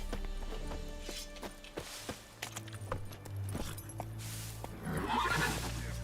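Horse neighs and clip-clopping hooves in The Witcher 3 video game, with a whinny and hoof steps over a steady low game ambience, fairly quiet overall.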